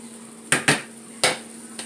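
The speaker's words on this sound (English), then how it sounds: "We're going to give this one quick final stir." Metal spoon knocking against a pan of garlic shrimp during a final stir: three or four sharp clanks, two close together, then one, then a faint last tap, over a steady low hum.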